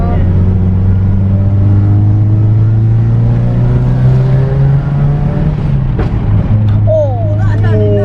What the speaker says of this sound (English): Oh, that's what you call a dump valve.